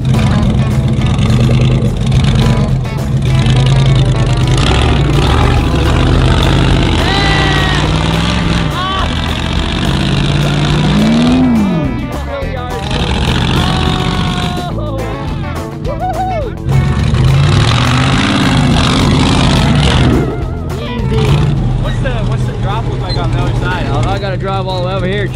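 A small four-wheel-drive vehicle with a newly fitted motor revs loudly, its pitch rising and falling in surges. People talk over the engine throughout.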